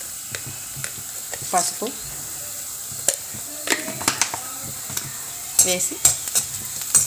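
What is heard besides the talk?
onions and green chillies frying in a pan, okra recipe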